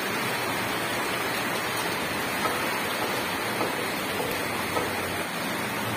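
Heavy rain falling outdoors, a dense, constant roar of broadband noise with no breaks, close and fairly loud throughout.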